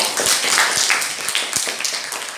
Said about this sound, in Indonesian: Beri aplaus untuk grup E.